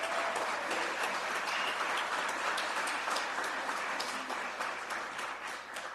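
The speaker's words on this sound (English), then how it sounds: "So a round of applause for that." Sustained applause from an audience at a school governing board meeting honoring retirees, steady dense clapping throughout, fairly loud and even, fading slightly at the end.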